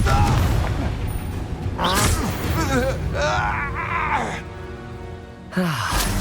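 Blasting explosions from the Confringo spell in Hogwarts Legacy, deep booms with rumbling tails, mixed with grunting and strained character voices during combat.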